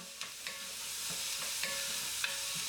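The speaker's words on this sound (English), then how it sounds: "Onions and garlic are in. I'm just gonna give that a stir around" Onions and garlic stirred in a sizzling pan, a spoon scraping in short strokes about every half second over a constant soft frying hiss.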